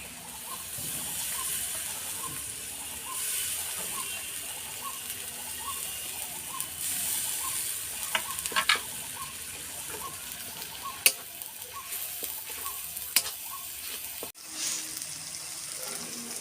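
Ginger-garlic paste fries in a pan of hot oil while chicken kosha is cooked, giving a steady, close hiss and sizzle with light bubbling and a few clinks from the pan, and no talk.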